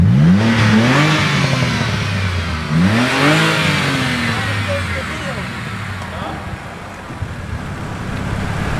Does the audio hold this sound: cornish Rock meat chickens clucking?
no